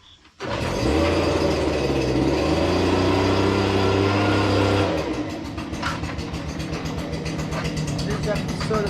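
A lawn mower engine starts abruptly and roars at a steady, loud idle near at hand, then its pitch drops into a rougher, pulsing chug for the remaining seconds, with a voice talking over it.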